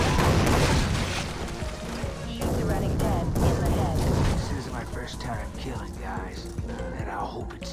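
Bursts of gunfire and booming blasts from the first-person shooter game Far Cry 3 Blood Dragon crackle beneath voices that talk over much of the action.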